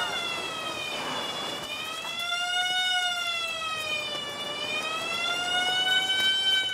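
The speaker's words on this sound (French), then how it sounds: "Ils arrêtent pas avec leurs sirènes, 2 fois par jour." An emergency siren wails continuously, its tone slowly rising and falling, loud and steady throughout.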